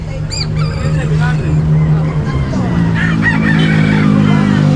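A rooster crows twice, shrill and fairly close, over chatter and the background murmur of a busy crowd at a pet market in Baliwag.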